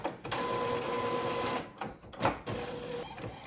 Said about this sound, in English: Okay, it's printing out.